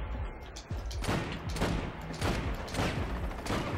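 Rapid bursts of gunfire from the co-op shooter game Army of Two, repeated volleys of shots cracking over one another in dense, loud clusters across the whole stretch with no talk.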